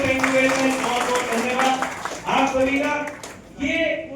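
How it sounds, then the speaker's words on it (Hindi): An audience at a talk on success and an RCM marketing plan breaks into loud clapping, bursts of many hands heard under and between a man's spoken Hindi. "एक बार जोरदार ताली बजाएंगे।"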